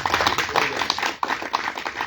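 Applause from a crowd of about 2000 at a political rally, a rapid patter of many hands clapping at moderate distance, steady and continuous.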